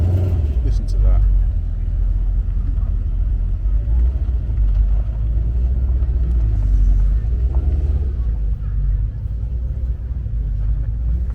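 Deep, steady engine rumble from American muscle cars at a UK car event, sustained and fairly loud throughout with crowd noise around.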